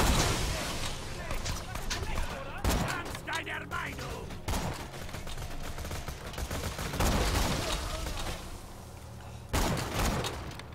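Repeated heavy sniper rifle shots in the co-op shooter Borderlands 2, loud and close, several separate blasts spread across the clip over dense game noise, with someone talking throughout.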